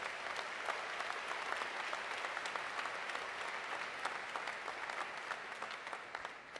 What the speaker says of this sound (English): I want to just get one more round of applause to our community for making it happen